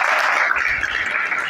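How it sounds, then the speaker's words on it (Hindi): An audience claps together at a spiritual talk, a dense, steady wash of clapping that stays loud and even for the whole short stretch, with no voice over it. "सब लोग ताली बजाइए"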